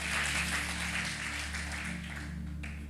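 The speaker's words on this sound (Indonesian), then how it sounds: "Tepuk tangan dulu buat Tuhan Allah kita." A church congregation claps during a sermon, a broad, steady wash of applause that fades slightly toward the end, over a constant low hum from the hall's sound system.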